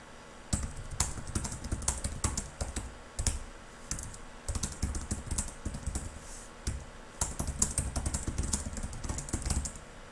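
Rapid clicking of typing on a computer keyboard during a maths lesson, with irregular bursts of keystrokes that pause briefly and resume, fairly close and clear without talk.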